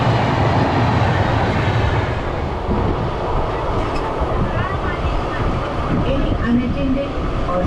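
An express train passes through Pattabiram railway station beside a stopped Lalbagh train, producing a loud, steady rumble with rattling wheels that lasts throughout and drowns out any other sound.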